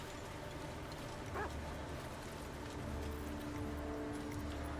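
A dog barks once in Baldur's Gate 3, a short yip rising briefly above a steady fantasy game ambience with low droning background.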